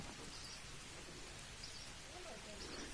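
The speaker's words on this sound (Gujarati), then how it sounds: "વરસાદ ચાલુ થઈ ગયો" Dense, even hiss of steady rain starting to fall all around on the old stairway of Girnar, fairly faint, with a faint chirp or call briefly rising through the wash.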